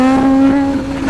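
A 1000cc-plus motorcycle engine roars at full throttle, holding a steady loud tone with strong harmonics for about a second, with no voices.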